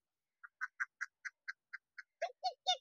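Ducks quack in a quick series of about eleven short, evenly spaced calls, faint and somewhat distant, with the last few quacks lower and harsher, and no talking.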